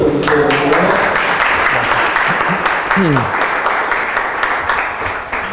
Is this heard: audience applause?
yes